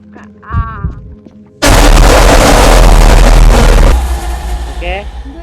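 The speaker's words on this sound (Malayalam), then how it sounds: "തൃശ്ശൂരത്തിന് വെടിക്കെട്ട് കേട്ട സൗണ്ട്" Fireworks explosions in the Roblox horror game Elmira, set in a haunted hospital, a sudden, very loud sustained barrage of booms and crackling bursts that then fades away, with someone talking before and after.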